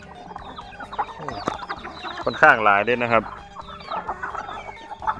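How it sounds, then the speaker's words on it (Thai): Thai native chickens on a mixed smallholding farm cluck repeatedly nearby, with one louder drawn-out call standing out amid the scattered clucks while someone speaks over them. "นี่จะเป็นไก่บ้าน"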